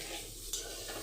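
Potol (pointed gourd) and potato frying in a pan, a soft, steady sizzle with one brief scrape of a utensil midway.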